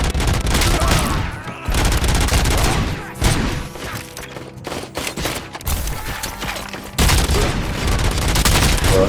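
Rapid gunfire from a robot shooting video game, dense bursts of shots and booms that fill the clip with brief gaps, loud and close throughout.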